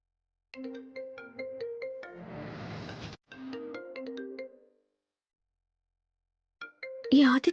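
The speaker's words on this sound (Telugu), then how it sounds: "పదే పదే కాల్ చేస్తున్నాడు?" An incoming call sets off a mobile phone ringtone, a bright repeating melodic tone that plays in two bursts separated by a short gap, then returns briefly before a voice cuts in near the end.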